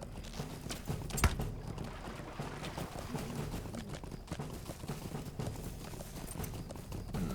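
Steady clip-clopping of horse hooves trotting along in the video game Lord of the Rings Online, with game ambient sounds underneath and a sharp impact early on.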